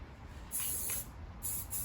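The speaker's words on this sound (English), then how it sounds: "So let's give it a good spray with hairspray" Hairspray from an aerosol can sprayed onto a Husqvarna 901 motorcycle handlebar while fitting heated grips, heard as two close, loud hissing bursts, a longer one and then a shorter one, with no talk over them.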